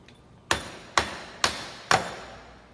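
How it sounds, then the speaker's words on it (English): Four heavy dead blow hammer blows on a front axle of a 1996–2007 Dodge Grand Caravan, evenly spaced about half a second apart, each a sharp thud with a brief ringing decay. "gonna have to get the dead blow hammer"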